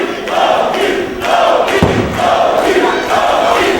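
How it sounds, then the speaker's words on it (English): Wrestling arena crowd at a Ring of Honor event cheering and chanting for the wrestler Loki, loud rhythmic chant phrases repeating in waves with a single heavy thump midway. "There you hear the crowd showing their appreciation to Loki"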